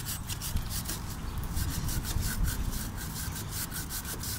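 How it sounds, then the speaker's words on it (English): A horseshoe-shaped bristle brush scrubs the drive chain of a Honda Shadow VT750 motorcycle in quick, rhythmic back-and-forth strokes, close and moderately loud, with no one speaking. "So give it a nice scrub with the bristles, the horseshoe bristles facing down."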